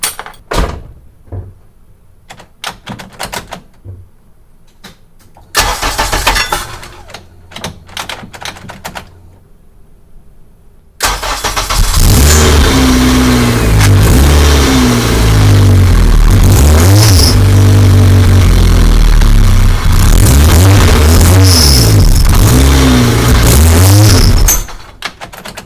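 A 1987 Pontiac Fiero GT with a swapped Honda K20 engine: first light clicks and knocks with a door-like thud, then the engine starts loud and close and runs continuously, rising and falling as it revs and drives off.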